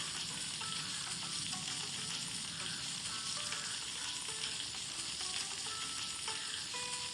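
Sizzling in a pan in a 3D cake cooking video game, a steady bright crackling hiss with small clicks and stirring noises running continuously, no voices.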